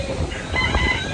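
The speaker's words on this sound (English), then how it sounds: "I hear you. You got opinions. Chickens have opinions." A chicken clucks and squawks nearby in a short burst on a cruise shore stop, set against a windy outdoor background with a low steady rumble.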